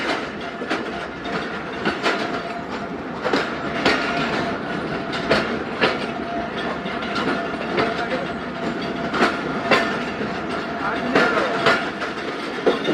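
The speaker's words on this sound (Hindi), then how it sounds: "दस 10:31 पर ट्रेन करंडा रेलवे स्टेशन पास हो रही है।" Zakariya Express passenger train running past Karanda railway station in Pakistan, a steady loud rumble of wheels with rhythmic clickety-clack over rail joints throughout, close by and continuous.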